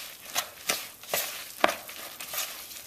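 Diced potatoes with carrot, onion, green spices, salt and freshly ground pepper are tossed in a bowl, giving soft, scattered scraping and rustling strokes at an uneven pace, fairly quiet and close.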